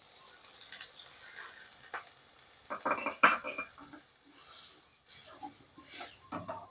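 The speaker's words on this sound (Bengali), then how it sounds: "সেই কাজু পেস্টটা দিয়ে দেবো। দিয়ে আবার একটু নেড়ে চেড়ে নেব।" Egg pepper fry masala with cashew paste stirred in a pan, intermittent spoon scrapes and soft sizzling bursts, close, with quiet gaps between strokes.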